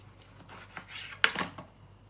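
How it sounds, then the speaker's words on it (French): A kitchen knife slicing a lemon in two, heard as a few soft, close cutting strokes and a sharper chop against the board, with quiet surroundings. "citron je le coupe en deux"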